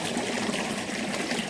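Dark, dirty water runs steadily from a tap after fresh rain, a continuous close splashing rush that holds at one level throughout with no voices.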